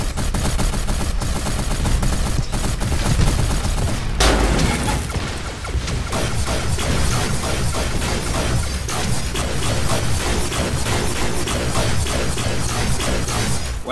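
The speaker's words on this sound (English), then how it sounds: "Wow, this plasma cannon is so inaccurate." Plasma cannon firing in the video game Gear Up, a dense barrage of rapid repeated blasts and booming impacts that runs loud and continuous throughout, with a heavy crash partway through.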